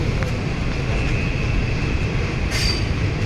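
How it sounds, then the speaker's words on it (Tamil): A train pulls out of Coimbatore Junction with a steady rumble of wheels and carriages, faint clatter of rails and a brief high squeal near the end, close and continuous with no talk. "ஸோ கோயம்புத்தூர் ஜங்ஷன்லேருந்து வண்டி எடுத்தாச்சு"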